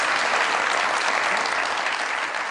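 A studio audience applauds steadily to welcome a female guest, model and actress Sunita Marshall, onto a comedy show stage; the clapping is dense, loud and sustained with no talking over it.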